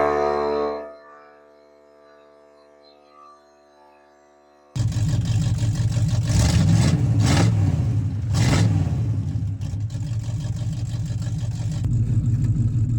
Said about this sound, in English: fire up the old Firebird and see if we can limp it here